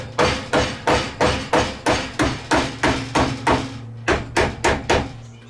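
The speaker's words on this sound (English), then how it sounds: "I'm using a steel planching hammer." Steel flanging hammer striking thick copper sheet for boiler building: a steady run of about fifteen sharp, ringing metallic blows at an even brisk rhythm, close and loud, with a brief pause near the end.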